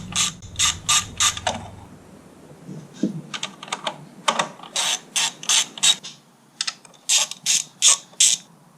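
Hand ratchet with a 3/8-inch drive, extension bar and 10mm socket loosening bolts on a 2005 Honda CR-V, giving repeated bursts of sharp clicking with short pauses between, close and fairly loud, with no talk.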